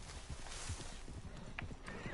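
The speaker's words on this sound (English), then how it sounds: "oh, is that a wild horse?" A wild horse in Red Dead Redemption 2 clops its hooves in an uneven rhythm and gives a short whinny, quiet and close, with faint talk in the background.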